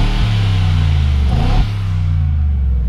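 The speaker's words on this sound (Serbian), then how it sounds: "zato što čujete zvuk rada motora odmah koji dolazi pored vas." A 2018 Mercedes G63 AMG with a 4.0-litre V8 BiTurbo engine rumbles steadily at idle nearby, with a brief blip of throttle midway before settling back to a deep, even drone.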